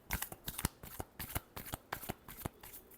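Close, quiet riffle of a deck of cards being shuffled, a quick series of crisp flutters and snaps with no one speaking.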